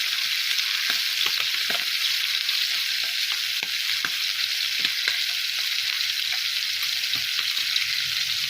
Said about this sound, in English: Just start basting it with a spoon over the top of the steak, and that'll give you a nice flavoured, herby steak.